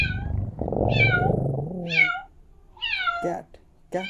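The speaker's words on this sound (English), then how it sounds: "Cat is a domestic animal." Domestic cat meowing several times in short drawn-out cries, close and clear, following a stretch of low rumbling sound.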